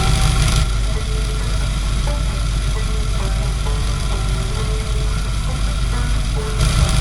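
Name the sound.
car engine idling during ignition timing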